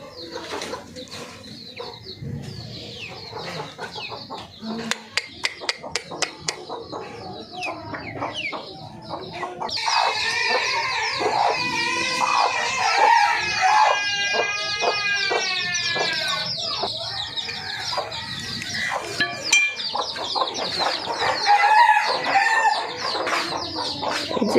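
Village chickens raised at home cluck steadily while a rooster crows several times, loud and close, with fowl calls overlapping throughout and no talking.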